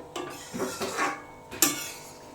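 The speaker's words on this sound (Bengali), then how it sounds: "এরপর একটু ভালোভাবে নেড়ে চেড়ে নিলাম" Mung dal with drumstick and bitter gourd, sweetened with sugar, being stirred in a pot: a few scraping, clinking strokes of a spoon against the pan, with one sharper metallic knock near the end, close and fairly quiet.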